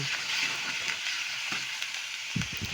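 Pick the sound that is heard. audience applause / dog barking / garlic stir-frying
garlic stir-frying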